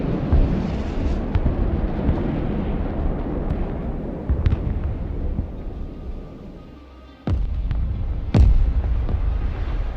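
Bombing explosions in the video game Broken Arrow, heavy booming blasts over a constant rumbling battle din, with a sharp near burst around the middle and louder strikes near the end.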